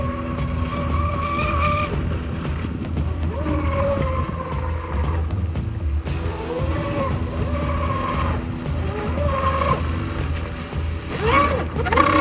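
A Pro Boat Blackjack 42 RC boat running at speed and skidding through turns, its high electric motor whine rising and falling continuously over rushing water, fairly loud throughout.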